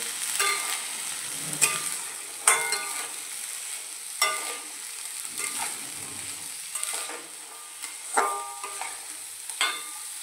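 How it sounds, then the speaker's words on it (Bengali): Boiled chickpeas are stirred in a pan for chhola makha, giving repeated scraping and clinking strokes over a soft sizzling background, each stir a short burst with quieter gaps between. "তো দেখো ছোলাটা এভাবে নেড়ে নিচ্ছি"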